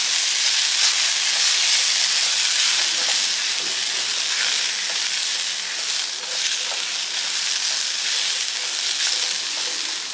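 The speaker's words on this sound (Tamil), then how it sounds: "வெங்காயம் வந்து கண்ணாடி பதம் வர அளவுக்கு கொஞ்சம் வதக்கிக்கணும்" Onions and poppy seeds sautéing in a pan for a kurma, a steady broad sizzling hiss that stays loud and even throughout with no voices.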